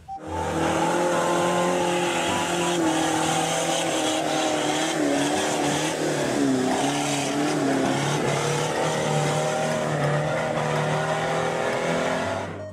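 A Jeep's engine revs loudly and steadily, its pitch rising and falling over a constant roar, with no talking.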